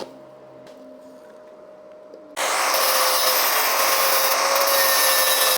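An arc welder fuses bolts onto a steel angle iron to build an axle for an electric go-kart, cutting in suddenly after a quiet stretch with a loud, steady crackling hiss that continues to the end.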